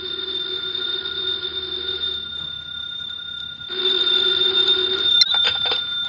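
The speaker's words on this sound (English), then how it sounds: "the phone in the Lawrence house on Berry Hill Lane began to jingle" A telephone rings in a house with a steady, bright electronic trill that pauses briefly and resumes, loud and alone, ending with a sharp click.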